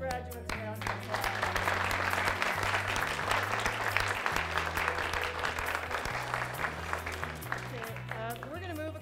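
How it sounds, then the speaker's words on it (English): Audience applause for graduates at a 2011 university graduation reception, steady and sustained throughout, with a low tonal music-like bed underneath and some speech mixed in. "let's give the graduates a round of applause"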